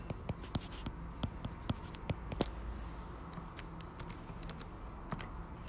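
Pen strokes scratch and tick across paper in light, irregular taps over a steady background hiss, close but soft.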